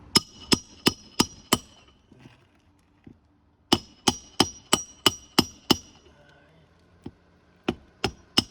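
A classic hammer drives roofing nails into roof shingles in quick bursts of four to seven sharp, ringing strikes, with short pauses and a few soft thuds in between, close and clear.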